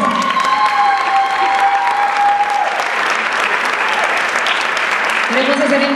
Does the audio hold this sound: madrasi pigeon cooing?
no